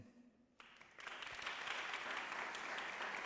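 Applause from a crowd starts suddenly and swells into steady, sustained clapping that continues to the end.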